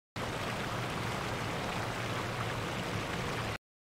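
Dense, steady rushing water noise with a muffled, bubbling underwater quality, continuous and loud from start to finish; layered underwater and ocean sound effects.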